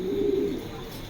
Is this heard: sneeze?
no